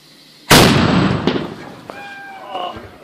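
A single loud ceremonial salute gunshot fired at a festive Czech gathering booms out suddenly, followed by a long, rolling decay. Faint whistling tones and background voices come afterward.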